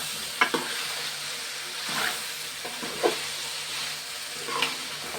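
Ginger paste fries in a pan under a soft continuous sizzle, broken by a few sharp stirring scrapes and ticks spaced through the clip, close and moderately quiet.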